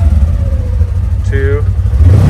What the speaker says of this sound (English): I'm going to give a little bit of gas to see if it'll break loose.